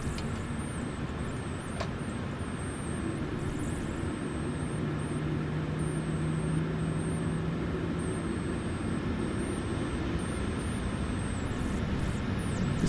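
Steady broadband engine rumble of a WestJet Boeing 737 airliner landing in Microsoft Flight Simulator 2020, a continuous even drone with a faint high whine above it and no talk.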